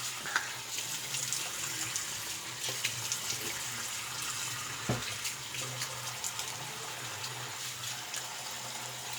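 Warm water runs steadily from a bathroom tap during a wet shave, a constant hiss of flow with a few faint clinks and splashes at the basin.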